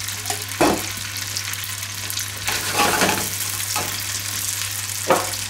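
Gnocchi pan-fry in a hot skillet with a constant crackling sizzle, broken by a few louder swishing bursts as they are stirred or tossed, over a low steady hum and without talk.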